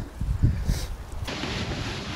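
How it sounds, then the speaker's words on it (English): Gusty outdoor wind buffets the microphone with low rumbling, easing into a steadier, hissing blow in the second half. "I took my mic off because it's so windy out here"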